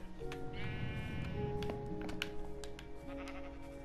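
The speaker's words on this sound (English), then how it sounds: "Well, there are a lot of sheep." Sheep in Minecraft bleat in a few short, nasal calls over a steady backdrop of game music and ambient tones, with no talking.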